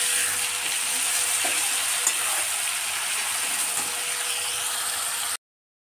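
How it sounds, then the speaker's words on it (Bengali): Mixed vegetables frying with salt in a pan, a dense, even sizzle heard close up with faint stirring scrapes, continuous for several seconds before it cuts off abruptly. "এমনভাবে ভাজতে হবে যেন ভাজাতেই হাফ সিদ্ধ হয়ে যায়"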